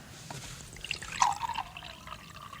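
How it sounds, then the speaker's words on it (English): Water poured into a glass makes a brief, faint trickle and splash near the middle of the clip over a quiet background hiss. "I'm going to pour some of the water into this glass."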